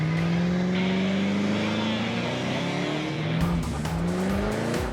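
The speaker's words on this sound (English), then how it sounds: "our taxi driver is ready to strip those tires" A taxi with bald rear tires spins them hard, letting out a loud sustained squeal of burning rubber under a roaring engine that rises steadily in pitch, heard up close without speech.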